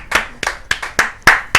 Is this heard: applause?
yes